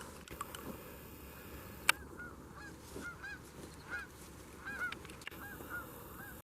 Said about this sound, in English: we just had 2 geese land in the pasture